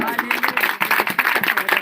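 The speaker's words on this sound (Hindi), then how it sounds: "धन्यवाद करेंगे तालियों के साथ" A church congregation claps together in thanks, a brisk run of rhythmic, fairly loud claps in quick succession, close and filling the short stretch.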